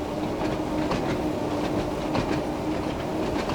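A train in Train Sim World 2 on the Isle of Wight line from Ryde Pier Head to Shanklin rumbles along steadily, its wheels giving a soft, regular clickety-clack over a constant low roar, with no voices.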